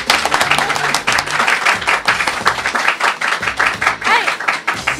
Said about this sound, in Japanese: じゃあ拍手お願いしますよ